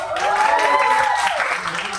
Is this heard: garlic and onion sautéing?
no